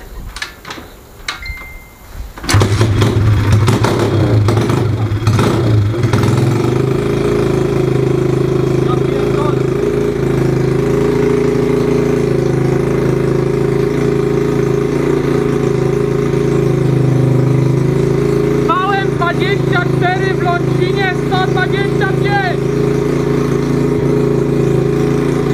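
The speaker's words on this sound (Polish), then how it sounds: "Poczekamy, aż się trochę rozgrzeje, przyzwyczai się silniczek i zaraz udamy na gaz." A Loncin 125 motorcycle engine fitted with a K170 stator and Mikuni VM24 carburetor starts after a few rough attempts, then idles steadily and loudly up close as it warms, with brief speech over it.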